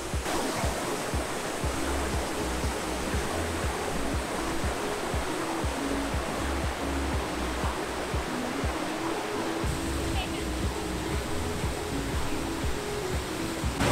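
Steady, loud rush of a high-flowing waterfall in Waimea Valley on Hawaii's North Shore, a continuous broadband roar that fills the whole stretch without pause, close by.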